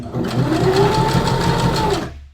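A sewing machine runs steadily as it stitches the curved, rounded section of a seam in a workshop, a loud continuous whir lasting about two seconds before it stops abruptly.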